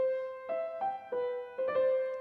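Opening theme of a sonata-form movement in C, a short melodic phrase of clear sustained tones with distinct note onsets, played cleanly and moderately soft with no voices.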